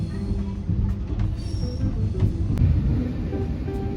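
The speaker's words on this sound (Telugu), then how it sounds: "ఫైనల్లీ మీరు చూడొచ్చు ట్రైన్ కూడా మూవ్ అయిపోయింది" A moving passenger train heard from inside a first AC coach: a steady low rumble and rolling roar with faint clicks and rattles throughout, no talking.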